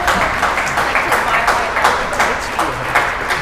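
Brief spatter of clapping from a small audience after a sight-read musical performance, steady and moderate, with a voice speaking over it.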